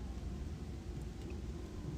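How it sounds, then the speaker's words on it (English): Wind and rain ambience in the video game Gothic II, a steady low rumbling wash of wind with soft hiss of rain, quiet and continuous throughout. "it does create kind of an eerie atmosphere, I have to say, with the wind slowly blowing, the rain"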